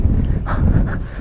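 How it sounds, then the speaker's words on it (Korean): Strong wind at the Cape Kamui lookout on the Shakotan coast, heard as a loud, unbroken low roar and buffeting against the microphone for the whole short moment. "와, 바람 왜 이렇게 세?"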